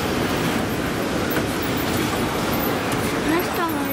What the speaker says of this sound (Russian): Ну пока еще едешь на эскалаторе.